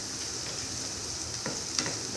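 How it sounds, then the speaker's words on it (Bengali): Vegetables for fried rice frying in ghee in a home kitchen pan, a steady soft sizzle with a couple of faint stirring clicks, close and quiet, no talking. "আমি একটু ঘিতেই ভাজি সবজিগুলো"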